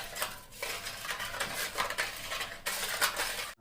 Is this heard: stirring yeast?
yes